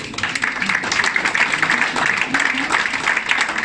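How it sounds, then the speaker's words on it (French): An audience at a restaurant applauds steadily for the restaurant director, a dense wash of clapping lasting a few seconds with a little chatter mixed in. "mesdames et messieurs, sous vos applaudissements"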